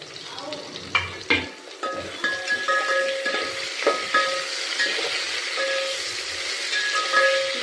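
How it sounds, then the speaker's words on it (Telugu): Tomatoes and spices frying in oil in a pan for village-style mutton biryani, a steady close sizzle with occasional louder stirring clatter, no talk. "ఇవన్నీ ఆయిల్లో వేగాలండి."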